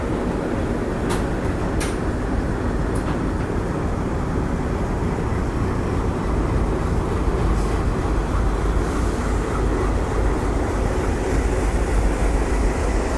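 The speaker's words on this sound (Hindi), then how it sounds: "फाइनली भी अपनी दुरंतो एक्सप्रेस निकल रही है मुंबई के Chhatrapati Shivaji Maharaj terminus railway station से" Mumbai–Howrah Duronto Express pulling out of Mumbai's Chhatrapati Shivaji Maharaj Terminus, running late: a steady, loud rumble of rolling wagons with a few brief sharp clicks near the start, no voices over it.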